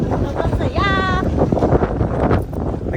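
Strong wind buffets the microphone at the Bangui windmills in Ilocos Norte, a heavy low rumble with gusts, while a person talks over it and a short whistle-like tone rises briefly.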